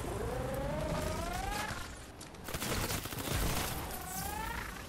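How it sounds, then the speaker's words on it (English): Fast bursts of submachine gun fire in Fortnite, dense, loud and continuous through most of the clip, with rising whistling game tones layered over the shots. "So I actually really like this submachine gun. I like the way it sounds, and it shoots so fast"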